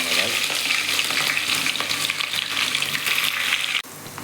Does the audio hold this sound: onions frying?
yes